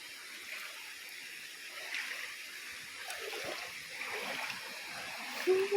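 A clear river flows and splashes near a waterfall at a hidden spot, a soft, steady rushing with occasional nearby splashes, and a voice briefly exclaims near the end.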